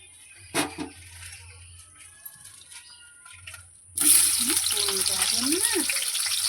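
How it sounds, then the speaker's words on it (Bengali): Potatoes coated with salt and turmeric dropped into hot oil, a quiet stretch with a few knocks giving way to a sudden loud, steady hiss of frying, with a voice talking over the sizzle. "আলুগুলো এবার ভেজে নেবো।"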